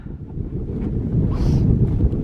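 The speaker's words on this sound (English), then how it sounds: "that wind is atrocious to film up there" Strong gusting wind buffets the microphone on the backside of Little Hump Mountain along the Appalachian Trail, a deep continuous roar that swells louder toward the end, with no talking.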